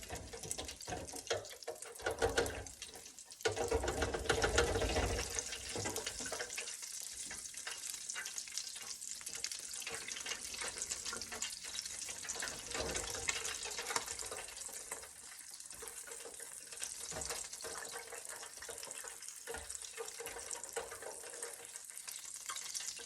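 Grey shrimp croquettes sizzle and crackle steadily in a deep fryer at 140 degrees for a first pre-cooking, bubbling oil close by and fairly quiet, with occasional stirring clatter and no voices.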